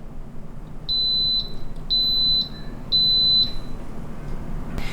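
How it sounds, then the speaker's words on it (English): Three loud, high-pitched electronic beeps from an Instant Pot pressure cooker in a steady rhythm, each about half a second long, over a quiet hum. "you'll know that it's on because it will start beeping."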